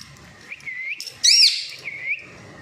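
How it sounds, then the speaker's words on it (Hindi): A pet parrot chirps in its cage indoors in Karachi, giving a few short whistled calls and then one louder, sharper squawk in the middle, heard close and alone against a quiet background. "अभी मिट्टू की भी सफाई करनी है पिंजरे की"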